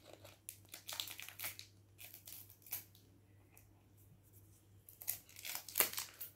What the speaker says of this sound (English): Okay, I'm just gonna use scissors. I don't know how to open this.